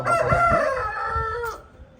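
A young Aseel rooster crows once, loud and close, a strained drawn-out call lasting over a second before cutting off.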